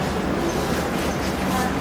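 The Mahananda Express, with LHB coaches, pulls in at platform 3 of Siliguri Junction, giving a steady, dense rumble of rail noise close by that lasts throughout.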